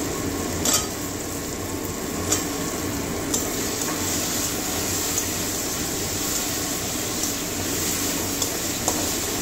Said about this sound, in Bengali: এবারে আলুগুলো দিয়ে দেবো, মশলার সঙ্গে কষিয়ে নেবো।